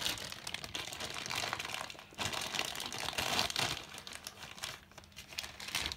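A Christmas advent calendar package being unwrapped, with continuous close crinkling and crumpling of wrapping and occasional tearing sounds, steady and fairly quiet, with no voices.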